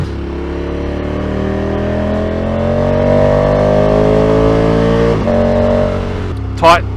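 A car engine revs above 2,000 RPM, a loud, steady drone that climbs in pitch for several seconds, then drops and briefly rises again, close up, with people talking over it.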